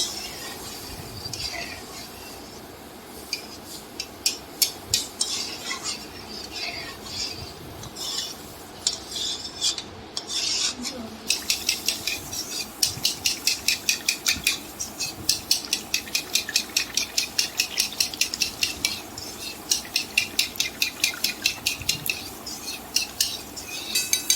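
A spoon stirs a sweet-sour yogurt mixture for tok misti doi, scraping and clinking against the bowl in a quick, steady rhythm that grows faster and sharper partway through, over a faint background hum.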